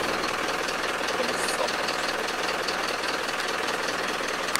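A Mercedes Vario truck diesel engine idles with heavy vibration and a knocking character, a steady, dense mechanical rumble heard up close without pause.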